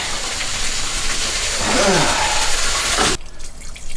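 Gray water rushes out through an RV's drain hose at a campsite, a loud, close gushing hiss that stops abruptly near the end, leaving quieter background sound.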